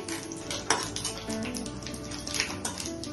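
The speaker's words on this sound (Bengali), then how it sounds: "শুকনো লঙ্কা, সাদা জিরা আর এলাচ দিচ্ছি। এভাবে দিয়ে ফ্রাই করছি।" Dried red chillies, cumin and cardamom frying in a hot pan, a continuous close sizzle with crackles and pops, broken by light clinks and scrapes of a stirring spoon.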